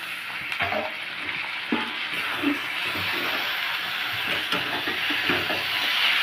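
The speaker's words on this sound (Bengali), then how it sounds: "এখন কাঁচা লঙ্কা টমেটোটা দেওয়ার পর আবারও ভালোভাবে মিশিয়ে নেওয়া হচ্ছে" Chopped green chillies and tomatoes sizzle loudly in a pan while a utensil scrapes and stirs them at irregular intervals, close up, without speech.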